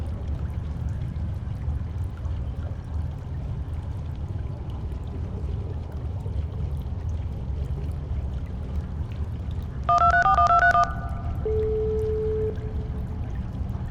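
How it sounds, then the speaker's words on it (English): Short burst of stacked electronic beeps from a telephone being dialed in a stealth video game mission set in London, followed by a steady sustained tone, heard over a constant low ambient rumble. "I'll call the phone now."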